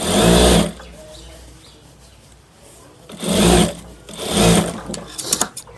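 A tailor's sewing machine stitches the back pocket of a pair of trousers, running loud and close in three separate bursts of rapid whirring with quieter handling between them.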